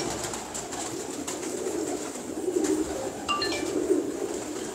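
Pigeons coo softly in a loft amid low background murmur, a few faint chirps and rustles breaking through near the end.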